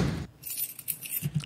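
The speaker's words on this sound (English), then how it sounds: "I'm sure I have a sample of keys here somewhere" A sampled jangle of keys, bright metallic rattling and clinking in a short burst after a low thump, close and fairly loud, with no talk.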